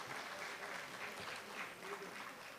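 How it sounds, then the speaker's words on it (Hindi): Audience applause after a music performance at an Indian cultural event, heard faintly as a steady, even patter of many hands throughout. "जोरदार तालियां आपके लिए।"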